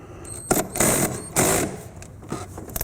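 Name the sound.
ratchet with extension removing 10 millimeter bolt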